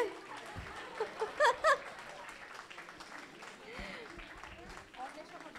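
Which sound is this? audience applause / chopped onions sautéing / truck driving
audience applause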